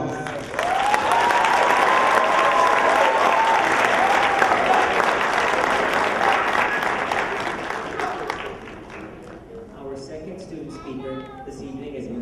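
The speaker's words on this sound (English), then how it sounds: "They really deserve an extra special applause." A large audience at an adult education graduation ceremony breaks into loud sustained applause with some cheering, fading away near the end as a few voices and a child's speech emerge.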